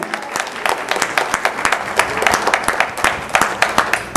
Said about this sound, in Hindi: तो एक बार सब कवियों के लिए मिलकर ताली बजा दें।